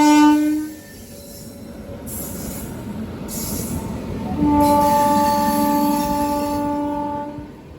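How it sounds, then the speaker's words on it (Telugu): A MEMU train running on a parallel track on the Narsapur–Vijayawada line, loud and close, with a horn blast, a rumbling roll of wheels, and long tonal squeals as it passes. "సో మన ట్రైన్కి ఇప్పుడే ప్యారలల్గా ఇంకో ట్రైన్ అయితే రన్ అవుతుంది చూడండి."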